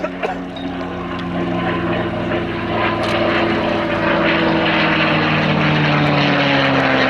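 Merlin-engined Mustang propeller aircraft flying at an air show, a steady loud piston-engine drone with strong harmonic hum that builds slightly and holds, with no talk over it.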